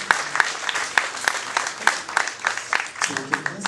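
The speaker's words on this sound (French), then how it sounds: "On applaudit Jessie," Audience at a stage hypnosis show applauding, a steady burst of clapping with crowd noise, moderately loud and continuous for a few seconds.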